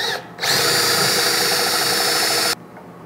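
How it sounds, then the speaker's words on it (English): A 3/4 Forstner bit bores a mortise into the underside of a Shaker-style wooden tabletop, the drill whining loud and steady for about two seconds after a short spin-up, then cutting off abruptly. "create a mortise for them with a Forstner bit"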